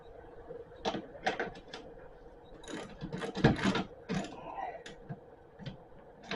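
Ratchet clicking as bolts are tightened on an Elite 1227 Briggs and Stratton snow thrower during an auger belt replacement; bursts of close, rapid mechanical clicks come in uneven runs, with brief quiet gaps between them.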